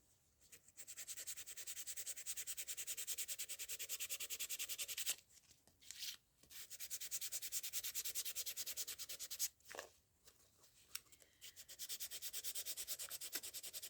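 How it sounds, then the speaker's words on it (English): Paper strips for junk journals are sanded by hand in long, steady rasping strokes, close and fairly soft, broken by two brief pauses, with no talking. "we're here to watch sanding"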